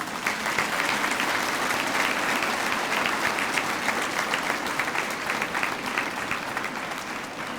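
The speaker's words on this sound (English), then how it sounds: "Give them a round of applause." An audience at a Dedication Day ceremony claps in a long sustained round of applause, dense and even throughout with no talk over it.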